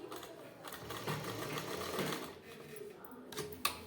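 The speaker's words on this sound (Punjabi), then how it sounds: "ਇਦਾਂ ਆਪਾਂ ਨਾਲ ਨਾਲ ਸਲਾਈ ਲਗਾਉਂਦੇ ਜਾਵਾਂਗੇ" A sewing machine runs steadily while stitching a suit neckline, a continuous close mechanical whir with faint speech in the background.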